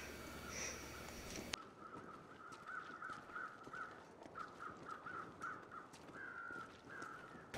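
Crows caw repeatedly in a steady series of harsh calls over a constant background hum in the video game The Long Dark, fairly close and moderately loud.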